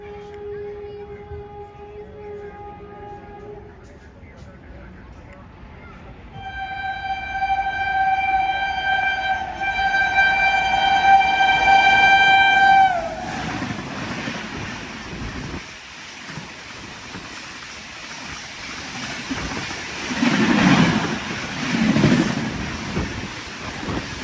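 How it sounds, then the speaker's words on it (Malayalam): At an Indian railway station, the Amritsar–New Delhi Shatabdi Express overtakes a waiting train, sounding a long, loud horn that swells for several seconds before giving way to the heavy rushing roar of the passing train. "ഇവിടുന്ന് അമൃത്സർ ന്യൂഡൽഹി ശതാബ്ദി എക്സ്പ്രസ് ഇപ്പോൾ ഈ ട്രെയിൻ ഓവർടേക്ക് ചെയ്തു പോകും."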